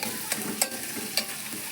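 Oil sizzles and hisses steadily as onions fry in a pan for khichuri while a utensil stirs with a few sharp scraping clicks, close and moderately loud.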